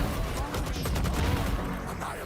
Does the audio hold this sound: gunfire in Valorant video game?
yes